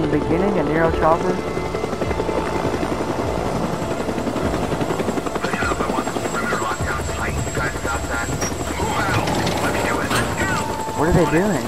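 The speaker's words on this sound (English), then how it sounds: "What is this helicopter doing?" Helicopter flying in the Days Gone video game, a steady rotor drone running throughout beneath game sound effects, music and in-game speech.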